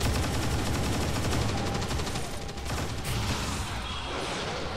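Rapid, sustained volleys of incoming gunfire in the XCOM 2 mod Long War 2, a dense crackling barrage running steadily throughout with no pauses.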